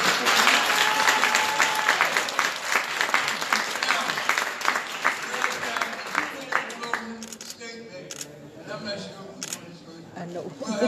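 An audience at a Chicago mayoral candidate forum claps hands in a dense burst that thins into scattered individual claps, close and lively, with voices talking over it.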